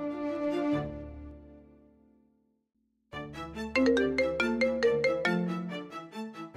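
A melodic ringtone chimes: a short tone fades out, then after a pause a brighter repeating phone melody rings loudly.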